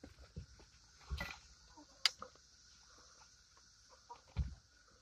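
Farmyard chickens cluck in scattered, soft bursts at early evening, with a few brief louder clucks and a sharp tick among quiet background sound, no one talking.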